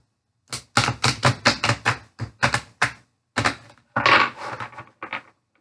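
Large oracle cards being shuffled by hand, a run of sharp papery riffles and slaps in quick irregular bursts with short pauses, close and fairly loud, no talking.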